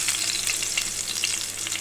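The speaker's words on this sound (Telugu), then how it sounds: "దీన్ని కొంచెం ఫ్రై చేసుకుందాము." Tempering spices sizzle and crackle in about three tablespoons of hot oil for drumstick dal, a steady close frying hiss with small pops and no talking.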